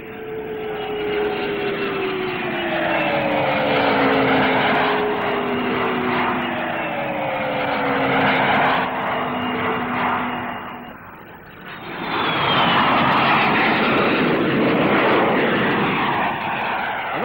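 A jet airliner with three rear-mounted Spey bypass engines flies past at the 1962 Farnborough air show. Its loud, continuous roar has whining tones that slide downward as it passes, then a second swell of noise.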